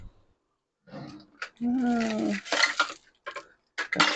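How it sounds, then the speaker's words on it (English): A kitchen knife is pulled from among metal cutlery while preparing a tortelli pasta salad with shallot. Several short clattering metal clinks come in separate bursts, close and fairly loud, with quiet gaps between them. "let's get my knife"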